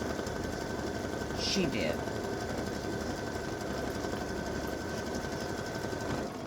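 A machine stitches a turkey feather design, giving a steady, dense mechanical whir throughout, with a brief voice speaking partway through.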